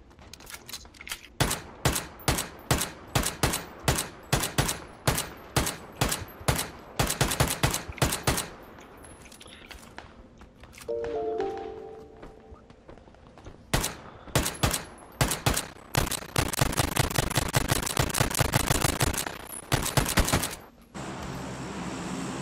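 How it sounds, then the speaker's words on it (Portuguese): MK14 rifle fire in the video game PUBG, as rapid evenly spaced loud cracks in long bursts, broken by a short pause and a brief electronic tone, with no talk. "Meu Deus, o recuo dessa arma é terrível. MK14."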